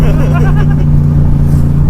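A 1966 Ford Mustang's engine drones loud and steady from inside the cabin while driving, a deep continuous rumble under brief voices.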